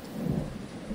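Low, steady thunder rumble with rain during a nighttime rainstorm, a continuous dense roar filling the whole second with no voices.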